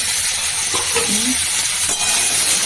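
Coconut paneer sizzling in a pan, a steady bright hiss of frying throughout with brief stirring scrapes partway, no voices.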